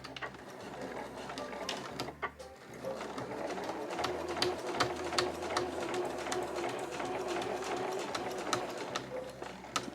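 A home sewing machine runs a seam on a small curved Marimekko fabric zipper pouch, a fairly quiet rapid mechanical chatter in steady runs with brief pauses between them.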